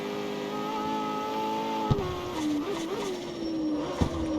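A McLaren's engine in the CarX Street video game holds a loud, sustained high-rev drone, with brief dips and jumps in pitch as gears shift.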